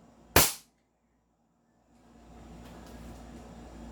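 A single sharp crack from an airsoft pistol firing, loud and close, followed by a brief silence and then a low steady background hum.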